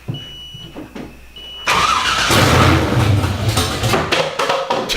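An LS1 V8 swapped into a Nissan 240SX starts for the first time: a short stretch of cranking, then the engine catches and roars loudly and steadily up close, with no talking.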